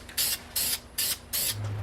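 Four short bursts of spray paint hiss onto an engine block for a light coat, evenly spaced pulses of bright airy spray, close and loud, with no voices.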